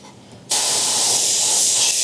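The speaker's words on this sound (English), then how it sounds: "let me spray some water" After a brief quiet moment, a single sustained spray of water from a spray bottle hisses loudly and evenly for about a second and a half.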